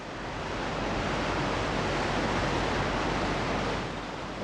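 Steady broadband rush of a waterfall on a trout creek behind a house, a dense constant roar with no voices, loud and close throughout.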